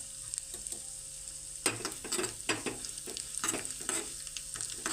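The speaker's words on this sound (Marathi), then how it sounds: "इथे आता आपण ड्रायफ्रुट्स तळून घेणार आहोत त्यासाठी मी इथे एक चमचा तूप घेतलेला आहे बदाम टाकून घेऊयात" Almonds, cashews and raisins frying in a spoonful of ghee, a soft steady sizzle broken by a series of sharp stirring scrapes and clinks of a spoon against the pan, close and alone without talk.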